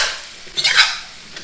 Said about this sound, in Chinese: 然后倒入切好的冬瓜，